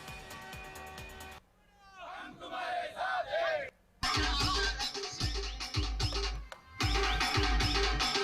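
Maratha supporters celebrate in Andarsul, Yeola, with a loud, dense crowd of shouting and cheering voices, heavy drumming and bursts of festive noise, including a brief quieter stretch of mixed voices before the full din returns.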